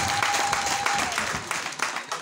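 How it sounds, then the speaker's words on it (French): Audience applause at the inauguration of the ATIR library in Oti, a dense, steady wash of clapping that fills the whole stretch at close range, with a brief sustained tone and some voices mixed in early on. "on applaudit très fort, s'il vous plaît"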